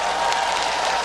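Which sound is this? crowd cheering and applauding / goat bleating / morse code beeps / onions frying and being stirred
crowd cheering and applauding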